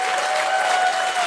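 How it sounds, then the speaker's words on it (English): A room full of people applauds the 2025 Co-Employees of the Year at a Santa Ana Parks, Recreation and Community Services Commission meeting, producing dense, loud, continuous clapping throughout. "Y'all can clap louder and scream louder than that."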